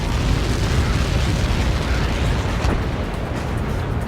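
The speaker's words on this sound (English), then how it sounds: "How many got caught in that explosion?" A massive missile blast in the Ace Combat 7 air combat game rolls out as a loud, dense, sustained rumbling roar lasting several seconds without pause.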